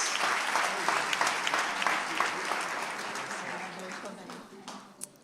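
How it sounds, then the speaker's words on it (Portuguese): Church congregation at a celebration service applauds, a dense wash of clapping from many people that gradually fades toward the end, with voices mixed in. "Você pode dar um aplauso a Jesus?"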